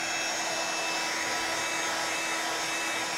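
A heat tool blows steadily to dry embossing powder from the back of a page, a constant loud whooshing hum with no breaks or talking.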